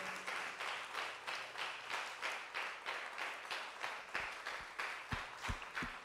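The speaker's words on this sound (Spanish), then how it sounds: "Dele ese fuerte aplauso al Señor." A church congregation claps in a steady rhythmic beat, roughly two claps per second, fairly quiet and somewhat distant, with a few low thumps near the end.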